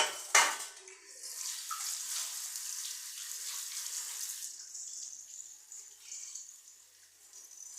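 Water runs from a tap with a steady hiss and light splashing after a sharp knock, gradually quieting as hands move under the flow.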